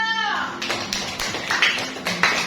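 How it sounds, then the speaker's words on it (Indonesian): A classroom of students claps for a classmate, a short burst of fairly loud, quick claps that follows a brief tonal sound at the start. "Oke, beri tepuk tangan untuk Edo."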